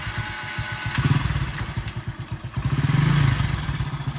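A motorcycle engine chugs with a steady, close-up, throbbing rhythm, revving up and easing off twice as a learner rider works the throttle in low gear.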